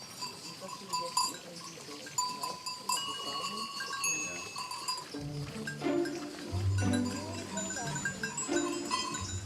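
A herd of goats on a Swiss alpine summer pasture near 2,000 meters, scattered bleats near and far with clinking cowbells, later joined by deeper, louder bleats close by, no talk.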